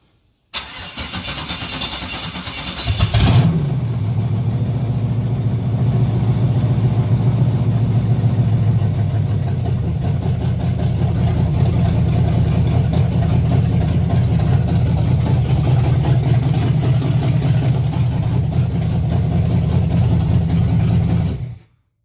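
A turbocharged LQ4 V8 swapped into an Oldsmobile Cutlass fires up for the first time: a brief crank, then the engine catches and settles into a loud, steady, rumbling idle at close range until it cuts off.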